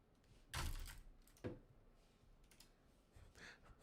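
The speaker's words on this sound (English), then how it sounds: "smashed a bunch of keys at once." Several sharp keyboard key clatters, with a loud cluster of keys mashed at once near the start and another burst a second later, then lighter clicks, close up in a quiet room.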